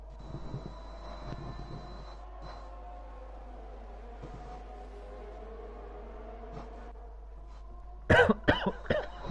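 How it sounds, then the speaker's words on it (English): Several harsh, close coughs break out in a quick cluster near the end from a race commentator who has had a lingering cough, following a stretch of quiet low background hum. "Do apologise, I've still got a bit of a cough."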